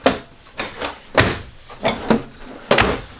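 Drawers in a 2020 Grand Design Solitude 373FB RV close in a series of about six sharp wooden knocks and thuds, spaced irregularly and heard close up.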